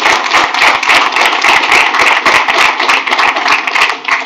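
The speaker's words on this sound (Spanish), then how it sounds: "yo voy a pedirle un aplauso a ese equipo del MIDA" An audience gives a dense, loud burst of clapping for the MIDA team, with many hands close by in a steady, sustained patter.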